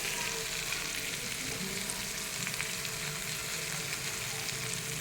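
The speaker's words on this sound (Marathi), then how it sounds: "इथे दोन्ही साईडने मच्छी तळली गेलेली आहे" Vam fish fries in a pan, a faint but steady, even sizzle with light crackle throughout.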